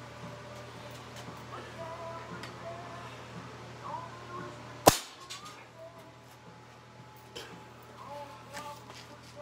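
A single sharp crack from an AEA .25 caliber carbon fiber PCP air rifle snaps out mid-way, loud and abrupt against a steady low hum of background noise, with faint outdoor sounds before and after.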